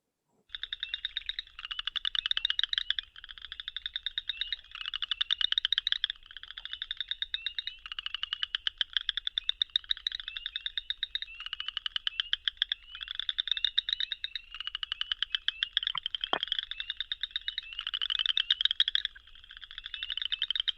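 Frog calls played back as a training example, a steady run of rapid, high, buzzy trilled pulses repeating in bursts for about twenty seconds, clear and alone against a silent background.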